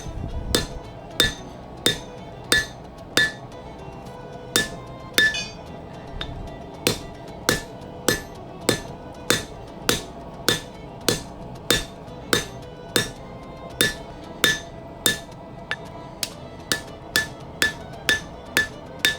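A hammer strikes the tip of a steel dirk blade on the edge of an anvil, ringing out in a long regular series of sharp metallic blows about one per second, loud and close, with no talk.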